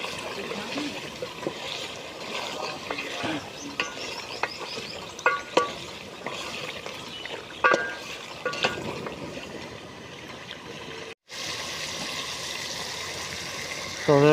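Dal gosht with onion, tomato and meat is stirred in a pot, giving a continuous wet, sloshing scrape with a soft simmering hiss and a brief clink or two.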